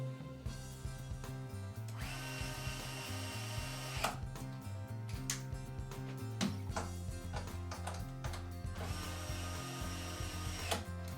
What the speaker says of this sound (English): Go ahead and take my Makita here and tighten these up.